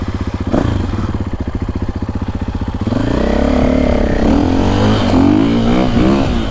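A dirt bike engine, a 2025 KTM 350XCF or Husqvarna FE450, revs on a short, tight woods loop: a sharp staccato idle-to-throttle burble, then a sustained louder drone with rising and falling revs, close and alone.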